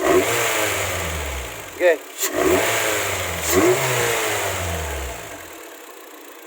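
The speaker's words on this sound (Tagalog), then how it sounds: "papabomba natin para marinig nyo yung tunog ng air filter" A Honda BR-V fitted with an HKS muffler revs in short blips over a steady engine hum, with a few throttle bursts standing out loud and close as a voice speaks briefly.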